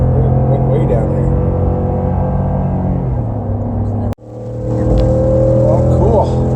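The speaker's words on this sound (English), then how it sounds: "Hear that rumble, that V8 deep throat voice." A 2019 Ford F150 Lariat pickup with a 5.0L Coyote V8 revs hard in second gear, a loud, steady engine roar with a deep rumble that cuts out sharply for a split second and then builds back to full volume.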